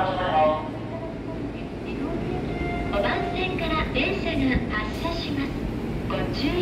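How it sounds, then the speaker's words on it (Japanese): A Kintetsu train departs from platform 5, a low steady rolling rumble building gently beneath a repeated station announcement voice. "5番線から電車が発車します。"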